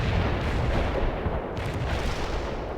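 An artillery strike in World in Conflict lands as a loud, continuous rumbling barrage of overlapping explosions, deep and sustained throughout, with no voices.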